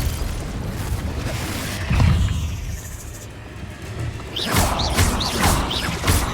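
Blasting spell explosions go off in the Hogwarts Legacy video game inside a cave, with heavy booming bursts around two seconds in and again in the final seconds, over rumbling game ambience.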